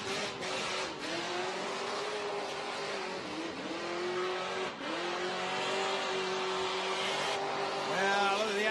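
A burnout car at Summernats revs hard and steadily, its engine howling at high RPM with wavering pitch and tyre squeal, loud and sustained throughout.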